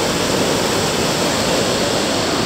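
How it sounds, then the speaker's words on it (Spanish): A waterfall on the Peñafrancia river near Gijón, Asturias, swollen after fresh rain, gives a steady, loud, close rushing roar that holds unbroken throughout, with no voices. "Esta cascada el resto del año no se ve, que está casi seco todo esto."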